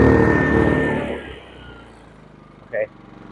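A Genmax GM7250iEDC inverter generator cranks and catches, its engine loud at first and then settling to a lower, steadier running note, with a short sharp blip near the end.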